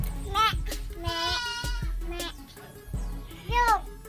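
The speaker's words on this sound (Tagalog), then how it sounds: "It's not sheep, it's goat." Baby goat bleats, several short wavering cries spaced through the clip, close and fairly loud, mixed with children's voices and thumping noises nearby.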